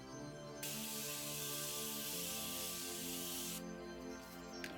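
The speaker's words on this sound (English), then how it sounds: "I'm gonna be using my Morphe continuous setting mist to set everything in" Morphe continuous setting mist sprays from a bottle in one soft, continuous hiss lasting about three seconds, with quiet music playing underneath.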